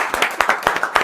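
Sparse clapping from a small audience at a talk, a handful of close, distinct hand claps in an uneven rhythm, fairly loud and without voices over them.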